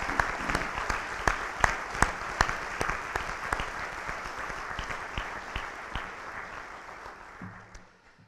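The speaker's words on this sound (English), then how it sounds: "Class of 2019, let's give them a round of applause." Audience at a university conferring ceremony applauding the graduating class of 2019, a full round of clapping with a few sharp individual claps standing out, steady and then tapering away to near silence at the end.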